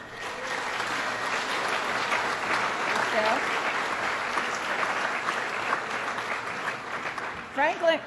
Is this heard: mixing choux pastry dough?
no